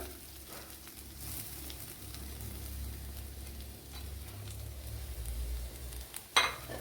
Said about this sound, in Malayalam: ഇതിലേക്ക് നമ്മുടെ തേങ്ങ ചേർത്ത് കൊടുത്തൊന്ന് ഫ്രൈ ചെയ്തെടുക്കണം.